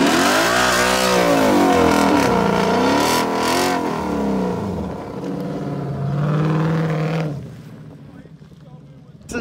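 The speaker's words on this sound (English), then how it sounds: "This is my little burnout real quick from this awesome car here." A 2018-2022 Ford Mustang GT doing a line-lock burnout roars loudly, its V8 rising and falling through repeated revs into a sustained howl that cuts off abruptly, with a voice briefly heard nearby.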